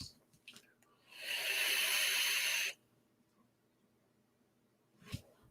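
One long, steady hissing draw on a Smok Rigal vape kit with the airflow half closed, heard close and alone, followed by quiet breathing and a brief puff of exhale.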